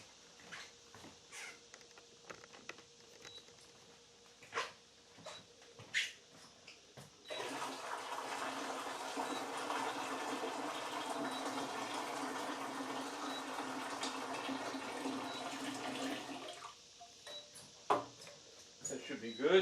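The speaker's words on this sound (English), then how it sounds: "Here's some more warm water." Warm water pours into a fast fermenter during a hard seltzer brew, a steady broadband rush that starts abruptly and runs for about nine seconds, loud and close, with brief handling knocks before and after.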